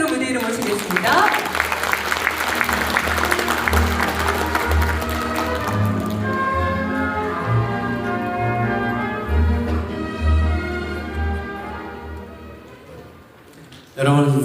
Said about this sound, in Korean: 여러분 뜨거운 박수로 무대 위로 모시겠습니다.